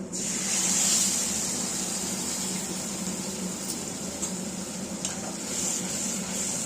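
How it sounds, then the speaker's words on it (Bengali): Mustard and poppy seed paste dropped into hot oil tempered with nigella seeds, giving a continuous bright hiss and sizzle that holds steady throughout, with faint clinks of a utensil. "ফোড়ন দিয়ে আমরা এই পেস্টটা দিয়ে দিলাম"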